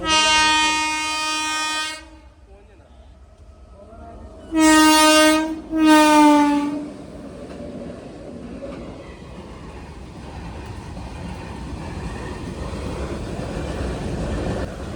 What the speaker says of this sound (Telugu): భీమవరం దగ్గర రైల్వే గేట్ పడింది